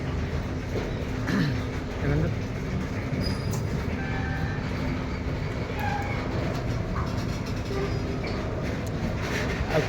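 A train enters a station on a new railway line in Sambalpur, rumbling steadily and continuously, with rail clatter and occasional squeaks and clicks, moderately loud throughout.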